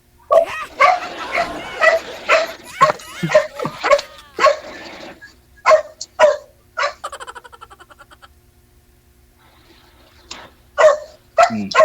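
A dog barks and yips in quick, loud bursts, some whimpering in between, with a short high-pitched tail of yelps partway through and more sharp barks after a pause.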